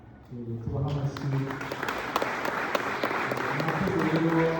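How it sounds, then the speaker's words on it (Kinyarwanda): Clapping from a crowd of family and friends at a celebration ceremony, sustained and fairly close, with music and voices running underneath the applause. "tubaha amashyi"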